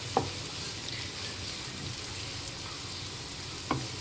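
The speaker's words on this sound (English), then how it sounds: "so I have just thrown in the onions. Let it cook till the onions become translucent" Onions fry in a pan for a coriander chicken curry, giving a steady, even sizzle and hiss close up, with a couple of brief clinks of stirring and no voices.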